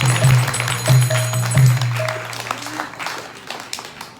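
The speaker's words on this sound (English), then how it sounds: "So big clapping for Nrsimha Prabhu." Audience clapping at a devotional bhajan gathering during a Srimad Bhagavat Saptah in Florida: a crowd applauding over a steady low tonal hum, with a few sharper claps standing out.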